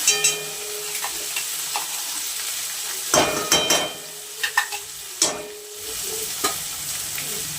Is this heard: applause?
no